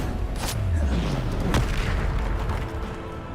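A Bombarda spell explosion in a video game: a loud, close boom with a falling tone, followed by a second sharp crack over lingering rumble.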